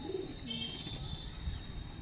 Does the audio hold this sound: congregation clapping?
no